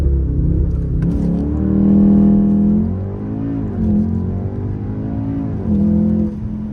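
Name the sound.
car launch control acceleration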